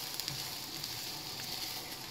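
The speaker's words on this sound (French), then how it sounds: "Now I'm going to stir fry until it starts to stick at the bottom of the pot." Rice frying in oil at the bottom of a pot gives a soft, steady sizzle with faint stirring scrapes, quiet and close, no voices.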